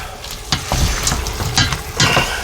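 Garlic cloves and Italian seasoning stirred in a hot frying pan for creamy Tuscan chicken pasta: loud, close sizzling with several sharp scraping strokes in quick succession.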